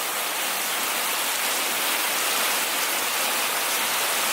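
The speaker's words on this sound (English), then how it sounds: "It is pouring rain outside." Heavy pouring rain outdoors during a flood, a loud, dense and steady roar of downpour with no gaps and no talking.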